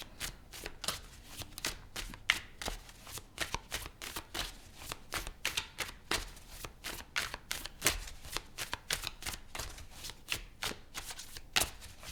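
Tarot cards being shuffled by hand, a steady series of soft, crisp riffling flicks and slaps that continues throughout, fairly quiet and close with no talking.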